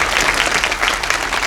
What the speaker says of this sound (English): Let's give them another round of applause.